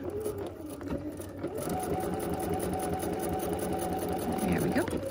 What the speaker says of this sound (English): Okay, now let's backstitch.